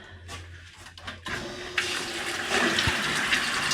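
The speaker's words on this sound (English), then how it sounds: "is this just filling it with cold water or hot water?" Cold water rushes into a dairy sanitizer tank for the milking pipeline, a steady loud gushing fill that starts after a quieter opening and keeps going.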